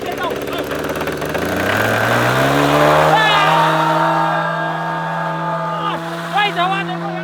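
A tiny 1.5 cc miniature car engine screams at full throttle, its high whine climbing sharply in pitch and then holding at a loud, steady rev, close by and without talk.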